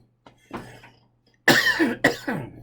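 Several dry coughs, close to the mic: a couple of softer ones first, then two or three loud, harsh bursts in quick succession.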